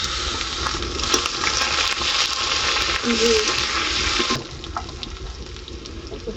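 Whole cumin seeds, bay leaf and dried red chili frying in hot oil give a steady, close, hissing sizzle that drops off sharply partway through, with faint clinks in the background.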